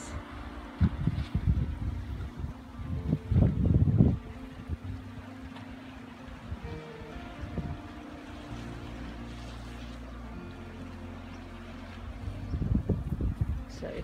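Wind at Praia da Luz beach in Lagos, Portugal, an early-morning gusty roar buffeting the microphone in low rumbling bursts that rise and fall, with quieter steady stretches between gusts.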